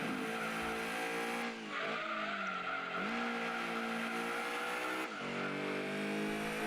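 A Lancia Stratos race car in the Gran Turismo 2 video game, rated at 355 horsepower, roars at high revs with its pitch rising through gear shifts and tires squealing, loud and continuous with no voices.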